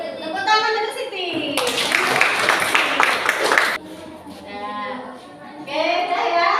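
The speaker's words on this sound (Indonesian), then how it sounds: "Tepuk tangan untuk Siti." Classroom applause for a student named Siti, a burst of many hands clapping for about two seconds between stretches of a teacher's talk.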